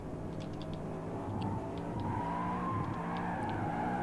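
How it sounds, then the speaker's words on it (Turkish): Car drifting in the racing game Asphalt 8, with a continuous engine drone and a rising tire-skid squeal running steadily throughout. "Lastik eriten 10 kilometre drift"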